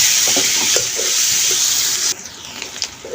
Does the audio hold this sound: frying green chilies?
yes